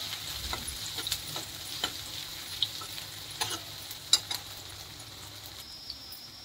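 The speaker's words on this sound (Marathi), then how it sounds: "कांदा थोडा परतून घेऊया" Chopped onion sautéing in a pan for a mixed village vegetable dish, a soft continuous sizzle under irregular light ticks and scrapes of a spatula stirring it.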